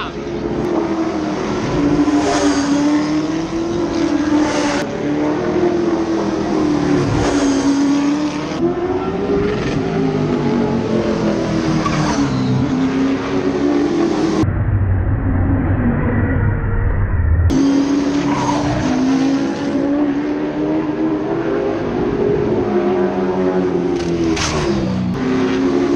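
A race car circles the track at Anderson Motor Speedway on a test day, its engine roaring loud and close as it revs up and backs off through the turns, rising and falling again and again.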